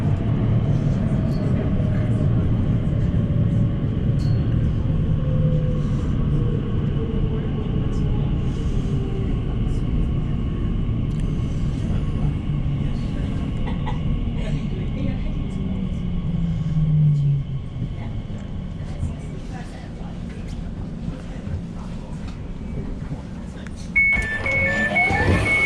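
A nine-car Elizabeth line train at Whitechapel station in London gives a loud, close rumble with a falling whine as it slows, then settles to a quieter hum before a brief tonal chime near the end.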